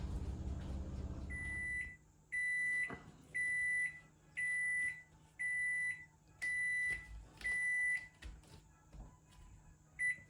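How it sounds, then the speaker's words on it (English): An oven timer in a home kitchen, set while baking challah loaves, sounds a string of about seven evenly spaced, clear electronic beeps, with a short stretch of low background noise before them. "Get a kitchen timer for 15"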